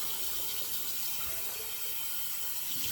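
Hot water runs steadily from a tap into a shaving soap bowl to rinse it, a continuous close rushing splash with no pauses.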